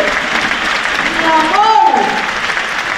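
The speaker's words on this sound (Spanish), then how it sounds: "Un gran aplauso para el maestro Gardel." An audience applauds maestro Gardel at the 2017 premiere of Sugar, a steady wash of clapping with an excited voice calling out over it partway through.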